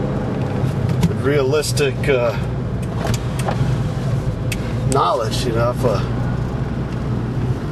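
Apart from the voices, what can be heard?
2001 Saab 9-3 Viggen convertible driving on road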